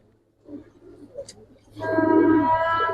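Giribaz pigeons coo softly in low, brief murmurs close by, followed by a louder sustained tonal sound.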